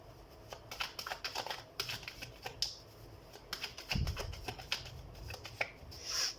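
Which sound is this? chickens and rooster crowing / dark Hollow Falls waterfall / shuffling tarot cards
shuffling tarot cards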